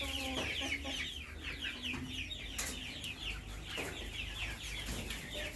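Hens on a tiger chicken farm cluck in repeated bursts, near and fairly loud, with a low hum of the farm underneath.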